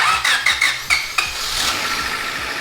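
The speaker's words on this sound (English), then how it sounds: "the engine is back up and running" A freshly rebuilt Honda Civic engine cranks with a few sharp, squealing bursts, then catches and settles into a steady idle, close and fairly loud with no talking.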